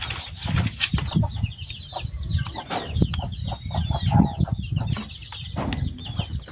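Chickens sheltering from the rain cluck and chatter in short, repeated calls, with a brief flurry of wing flapping, close by over a low background of rain and outdoor noise.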